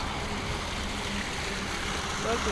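Steady rushing water roars continuously, dense and loud, like a waterfall close by, with nothing else standing out.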